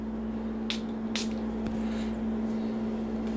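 Two quick hissing bursts from a Dua Fragrances perfume atomizer, close by, over a constant low electrical hum in an otherwise quiet room.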